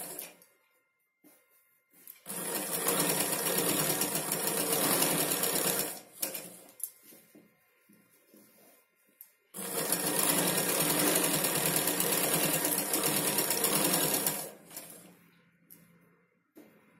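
Sewing machine running steadily while stitching Punjabi dress pants, in two long loud bursts of continuous whirring with quiet pauses between, no talking over it.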